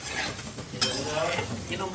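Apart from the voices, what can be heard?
sizzle of tempering (vaghar) for frying potatoes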